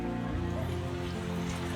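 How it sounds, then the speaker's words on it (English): Rain falls on a city street in Gothenburg, Sweden, a steady soft hiss of drops that stays even throughout, with no voices. "It's a rainy day in Gothenburg."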